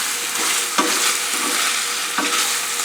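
Beef liver and onions cook slowly in a frying pan, giving a steady broadband sizzle with a few soft stirring scrapes, close and continuous with no talking.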